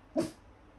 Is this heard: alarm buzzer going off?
no